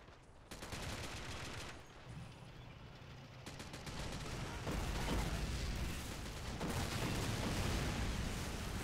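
Rapid gunfire bursts and booming explosions fill a Call of Duty: World War 3 mod battle, with rockets hitting an armoured BTR-90, a dense, sustained barrage of fire rising in intensity.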